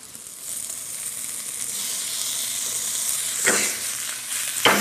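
Beef fillet landing in a hot pan for stroganoff: a rising, broad sizzle that swells and holds steady, with a couple of brief louder bursts near the end as the meat is moved, no talking.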